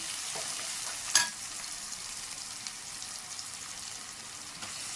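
Ginger garlic paste frying for a prawn curry, a steady soft sizzle with one brief clink of a utensil early on.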